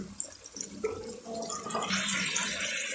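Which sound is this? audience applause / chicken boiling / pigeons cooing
chicken boiling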